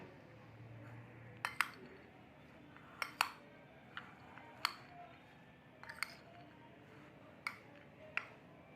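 Sprouted moong chaat being mixed in a bowl with a spoon: sharp, periodic clinks of metal against the bowl in an uneven rhythm, close and fairly quiet, with no talk.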